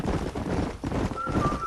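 Herd of horses galloping in the Red Dead Redemption video game, a dense, continuous rumble of hoofbeats with a brief whinny near the end, close and steady.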